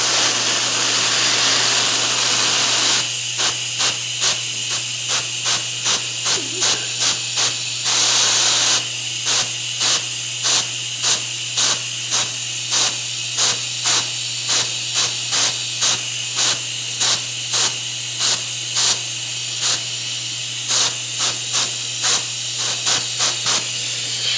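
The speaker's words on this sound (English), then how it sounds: "I'm just going to use some air pressure here to blow that paint out" Compressed air blows paint out of the grooves of a handmade four-sided wooden bowl: a steady loud hiss gives way to a long run of short, rapid air bursts over a constant low hum, with no talking.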